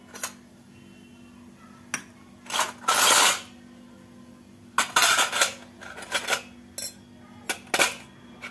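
Freshly washed metal dishes and utensils clink and clatter as they are handled in a home kitchen, in irregular bursts of sharp metallic knocks separated by brief pauses, close and fairly loud.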